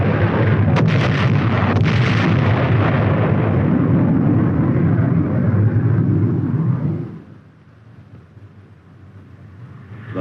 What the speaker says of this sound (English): the first flight drops general purpose bombs